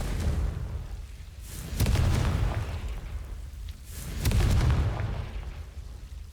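Two deep booming blasts from the Confringo fire spell in Hogwarts Legacy, each a heavy burst with rumbling tail, spaced a couple of seconds apart over steady low ambience.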